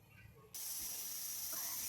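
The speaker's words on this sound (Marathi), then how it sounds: "आता इथं पाहू शकतात बघा कुकरला एक सिटी झालेली आहे" A pressure cooker on a full gas flame, cooking salted peanuts, suddenly lets out its whistle: a loud, steady, close rush of hissing steam that starts abruptly after a quiet moment and continues unbroken.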